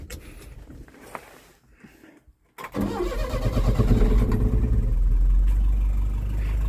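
A 1982 Ford Transit Mk2 van with a 2-litre engine cranks and fires after a few seconds of quiet, then settles into a steady, rumbling idle close by.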